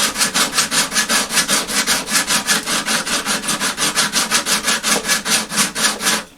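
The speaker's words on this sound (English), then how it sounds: "I ended up taking some 120 grit sandpaper." 120-grit sandpaper rubs back and forth over the damaged side of a Gibson J-15 acoustic guitar, a loud, close, steady rasping stroke about five times a second, continuing without pause for several seconds.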